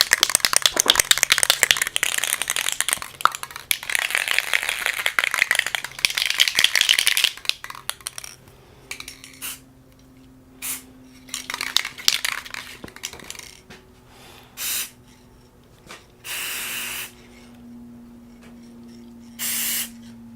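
Rust-Oleum spray paint can hissing in a long, steady spray for about seven seconds while making a mirror on pinball backglass, followed by several shorter spray bursts and quiet gaps with faint handling sounds.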